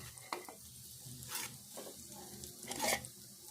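Coconut powder and sweet potato mixture stirred in ghee in a pan, a soft continuous sizzle broken by a few louder scraping stirs, close and fairly quiet with no talking.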